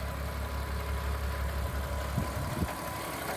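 A Volkswagen Golf Mk2 with a 3.2 VR6 engine idles close by, a steady, even low rumble with a couple of brief uneven pulses near the end.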